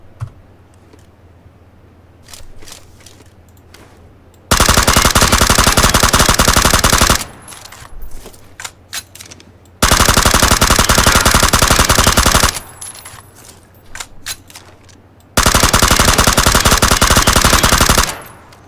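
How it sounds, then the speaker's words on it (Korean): Suppressed M416 rifle firing full-auto bursts in the game PUBG, three long loud sustained volleys separated by quieter gaps with scattered clicks and keyboard tapping. "자 이번에는 M4 그 소음기 수직 손잡이 상태 풀파츠 세탄창"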